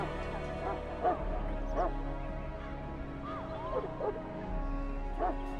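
A Mabari war hound in Dragon Age: Origins yips, barks and whimpers in short bursts over a steady background of game music and ambience.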